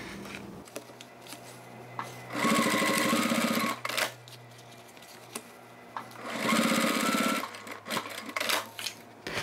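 A sewing machine stitches a toiletry bag in two loud, steady bursts of rapid mechanical clatter, separated by a quieter pause with faint handling noises, and no talk.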